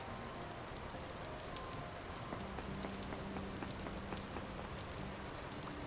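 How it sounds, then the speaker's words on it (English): Steady rainfall from a big rainstorm in the Vintage Story video game patters softly and continuously, a faint even hiss with scattered droplet ticks throughout. "while a big rainstorm's happening"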